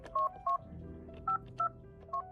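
Touch-tone dialing on a recorded call from Oshkosh Correctional Institution, a prison phone line: five short, clear tones in an uneven rhythm, fairly loud against a quiet line hiss, with no voices.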